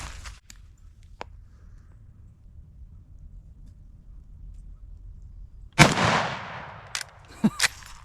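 A loud shot from a 1964 Winchester Model 94 30-30 rifle cracks out, nicking an explosive target for a partial burst and trailing rumble, then two more sharp pops; faint earlier clicks precede it in a quiet outdoor setting.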